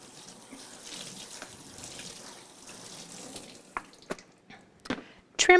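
Tap water runs steadily into a colander of broccoli at a kitchen sink, a soft continuous splash that gives way to a few sharper knocks and clatters near the end.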